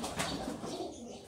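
Sialkoti rooftop pigeons give a brief, faint flutter of wings with a soft coo, heard at a distance with no talk.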